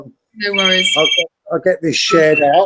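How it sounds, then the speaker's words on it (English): A telephone ringing in a room, a repeated electronic ring pattern heard twice, overlapping with close conversational speech. "Sorry about that phone ringing."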